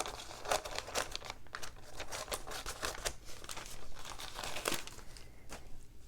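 A sheet of Heat and Bond fusible adhesive crinkles and crackles as it is handled and cut to size, giving irregular close, crisp rustles and snips at a low level.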